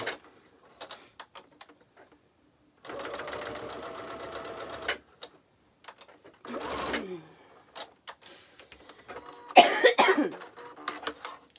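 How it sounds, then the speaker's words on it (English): A sewing machine straight-stitching along belt bag webbing in two bursts of rapid, steady whirring, close and clear, with quiet clicks, a cough and some throat clearing in the gaps. "I've just stitched along there so that the webbing is in place"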